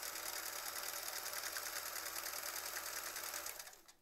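A sewing machine stitches through a quilt, humming in a steady rapid rhythm close by before slowing and stopping at the end.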